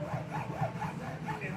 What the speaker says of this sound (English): Hacked it with the hacksaw